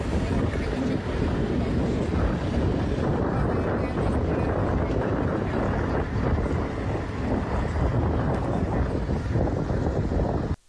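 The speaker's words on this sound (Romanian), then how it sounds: "vântul care suflă cu putere a troienit zăpada" Strong wind roars steadily across snowy terrain in Suceava, Romania, during a blizzard that closed roads, a loud, continuous buffeting rush with heavy microphone wind noise throughout and no pauses.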